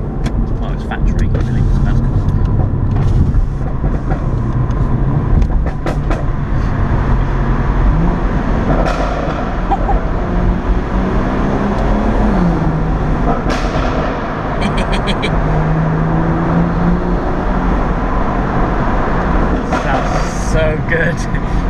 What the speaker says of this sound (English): let's pop this into the pop and bang mode